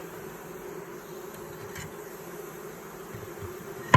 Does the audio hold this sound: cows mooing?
no